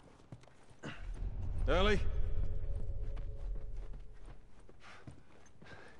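Horse hooves in a video game clip-clop at a walking pace under ambient rumble, joined by a horse's whinny partway through, while a voice briefly calls out.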